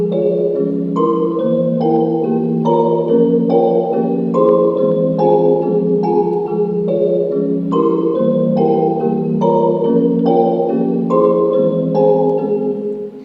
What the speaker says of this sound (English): just chopped up the chord and then put it down an octave